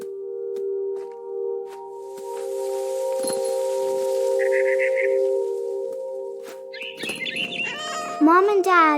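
A cat meows near the end over steady in-game ambient hum and faint chirps in What Remains of Edith Finch, with a couple of short high calls.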